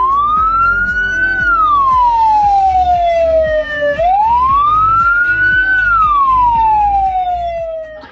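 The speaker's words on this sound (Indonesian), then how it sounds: "Itulah macam-macam suara ambulan guys" A loud, close Indonesian ambulance siren wails in two long rising-and-falling sweeps, steady and piercing, with a low engine rumble beneath and no talking.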